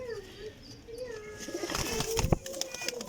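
Colourful pet pigeons coo softly nearby, with low rolling calls, a few chirps and some rustling and handling noise building toward the end.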